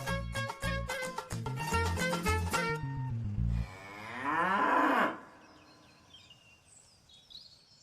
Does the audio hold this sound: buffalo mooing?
yes